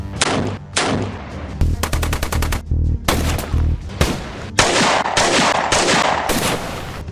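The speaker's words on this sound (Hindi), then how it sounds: "रात के अंधेरे के सन्नाटे को गोलियों की तड़तड़ाहट ने चीर दिया" Loud gunfire during a night-time encounter between security forces and militants in Jammu and Kashmir: repeated bursts of rapid automatic shots and single cracks follow one another in quick succession, with no speech.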